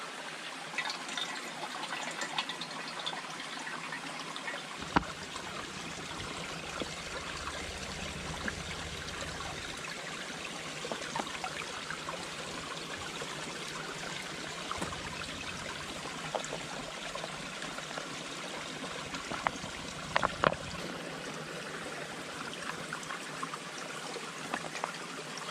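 Stream water filling a canteen on a hike at Knobby Rock, a steady soft trickling and gurgling flow running the whole time, close to the microphone with no voices.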